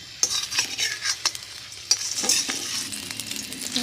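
Country chicken eggs fry in a wok with a steady sizzle while a metal spoon scrapes and flips them, giving sharp clinks and stirring scrapes over continuous frying; no voices.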